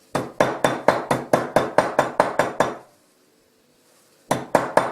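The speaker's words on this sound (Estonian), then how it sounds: "Ja pigistan 2 rätiku vahel. Pigistad nad nüüd puruks." A hammer striking peppercorns wrapped between kitchen towels, a quick run of about eleven evenly spaced, sharp thuds, then a pause and three more blows, close and clear without talk.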